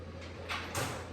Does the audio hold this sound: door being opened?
yes